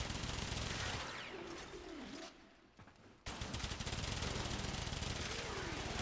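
A very fast-firing secondary weapon in the sci-fi shooter Warframe, a dense stream of rapid shots with a short pause midway before the firing resumes at full intensity.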